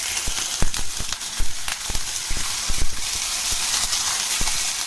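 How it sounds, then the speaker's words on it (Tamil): Tomatoes sizzling in hot oil in a pan while making radish chutney, a steady frying hiss with scattered sharp pops and crackles throughout. "இப்போ இந்த தக்காளியை நம்ம இதில் வச்சிடலாம்."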